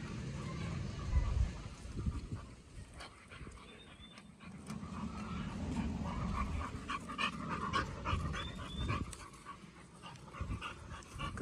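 A dog pants steadily up close, with quick breathy huffs continuing through most of the clip.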